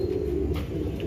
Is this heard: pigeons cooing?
yes